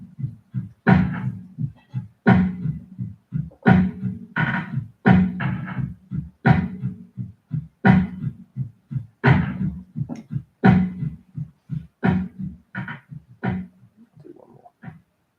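The frame and mechanism of a piano are struck by hand, giving a steady run of short, resonant knocks and thuds at a fairly regular pace, close and clear, without voices.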